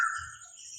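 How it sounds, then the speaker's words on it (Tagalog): A bird gives a single brief chirping call in the distance, faint and clear over a quiet outdoor background. "Yung ibon na yan ba, naririnig nyo ba mga tol?"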